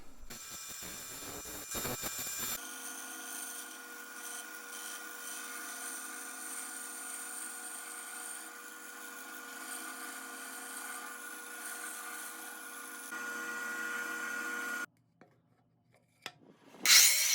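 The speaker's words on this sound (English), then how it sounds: "now I'm using the bandsaw to cut to the line" A bandsaw cuts a roughly cut plywood circle to the line. Its steady, loud sawing whine and rub run continuously for about twelve seconds, then stop abruptly, with no talking.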